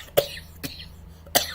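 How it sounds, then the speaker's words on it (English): Three short, sharp coughs, well spaced and close, with near silence between them. "I'm worried about you with that cough, though."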